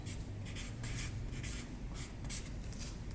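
Pen writing on a paper pattern laid over folded fabric, a close, continuous scratchy rubbing of short strokes with no voices.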